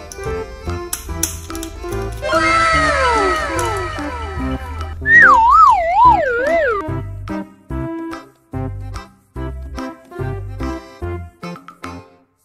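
A toy police car siren wails with a wavering, rising-and-falling tone for a couple of seconds, surrounded by plastic clicks, taps and short musical toy sounds.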